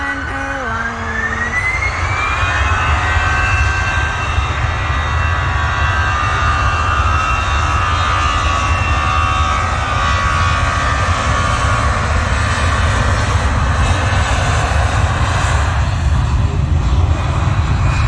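An American Airlines jet airliner taking off on Memorial Day weekend 2022 makes a loud, sustained engine roar with a rising whine that fills the whole stretch, heard from nearby outdoors.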